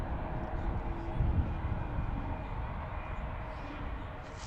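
An Embraer jet roars on its takeoff run at Washington's DCA airport, a broad, steady, distant rumble with a faint low surge, heard from outside near the runway.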